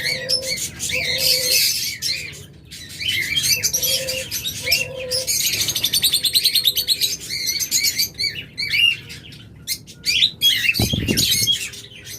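Pet budgerigars and diamond doves kept for sale chatter and chirp busily all at once, with soft cooing and bright tweets close by, forming a dense, lively aviary chorus.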